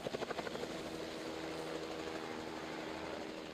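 A B-3 helicopter flies over a Kashmir valley, its rotor throbbing in a fast, steady beat that starts sharply pulsed and then blends into a continuous, moderately loud drone.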